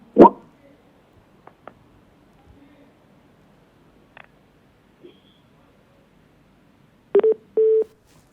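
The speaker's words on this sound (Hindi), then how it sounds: "फोन डिस्कनेक्ट हो गया, दोबारा से कनेक्ट करवाइए प्लीज" Telephone tones sound as a call drops during a live televised phone-in discussion: sparse clicks and faint blips in near silence, then a short burst of electronic beeps at the end, with no talk.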